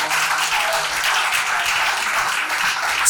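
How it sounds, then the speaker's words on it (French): A church congregation bursts into loud, sustained applause acclaiming the Lord Jesus, a dense wash of many hands clapping without a break. "Est-ce qu'on peut acclamer le Seigneur Jésus?"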